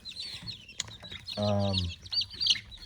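Bantam chickens cluck softly with a few chirpy calls, and one longer drawn-out cackle stands out in the middle, close by.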